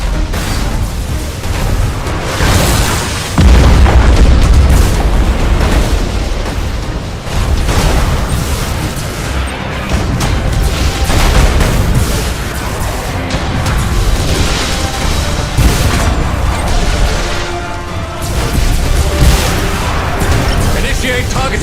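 Main batteries of an Imperial warship fire in Battlefleet Gothic Armada 2, a dense, relentless barrage of heavy booms and rolling blasts overlapping for many seconds, loud and close over a constant roar.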